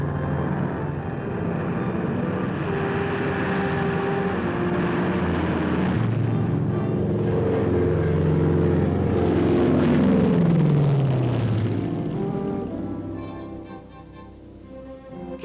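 C-54 transports and C-119 flying boxcar aircraft carry paratroopers to Korea, their propeller engines droning loudly and continuously, with a pitch that sweeps downward as one passes before the roar fades.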